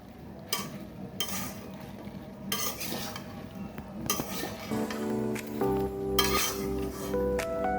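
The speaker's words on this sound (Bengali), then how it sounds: "মশলার সাথে কচুগুলো ভালো করে মিশিয়ে নিব।" A spoon scrapes and stirs taro stems with spices in a metal cooking pot, making bursts of clinking strokes against the pot with a soft sizzle underneath. The sound is close, and nobody speaks.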